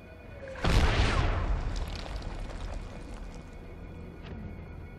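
A mortar round explodes in the Medal of Honor video game: a single loud, close boom bursts out suddenly and rumbles away over several seconds into a lingering low roar.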